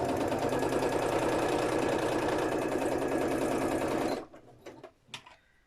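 A sewing machine stitching a bird wall hanging runs in a fast, steady mechanical whir for about four seconds, then stops, followed by a few faint clicks and handling sounds.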